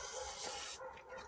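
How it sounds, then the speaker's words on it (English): Aerosol can of WD-40 sprayed into the inlet of an Integra engine, a short, close hiss that cuts off abruptly, leaving a quieter tail. "I have a bit of WD-40, so we're going to spray it in the inlet."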